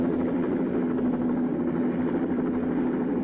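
A helicopter in flight, heard in 1969 footage, gives a steady, loud rotor and engine drone with a low hum and a slight rhythmic beat that runs unbroken throughout, with no voices.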